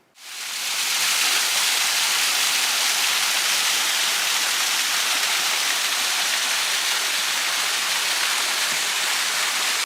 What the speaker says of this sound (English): There was a waterfall there, a hidden waterfall.